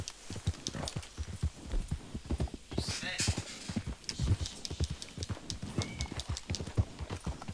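Horse hooves clip-clopping in Red Dead Online, a dense, fairly near, uneven run of hoofbeats throughout, with a brief whinny-like burst in the middle.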